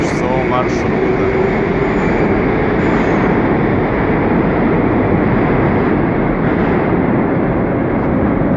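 Moscow metro 81-760/761 Oka car with an inter-car partition rolling along the Kaluzhsko-Rizhskaya line, a loud, steady rumble and roar of wheels and motors filling the whole stretch, with a brief squeal near the start.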